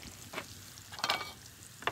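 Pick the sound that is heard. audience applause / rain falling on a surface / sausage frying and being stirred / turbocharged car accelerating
sausage frying and being stirred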